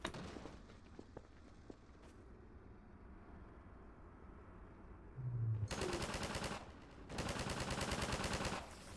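Rapid automatic gunfire in Half-Life 2: Episode One comes in two loud, dense bursts of roughly a second and a half each, cutting in after a stretch of quieter ambient game noise with scattered faint clicks and footsteps.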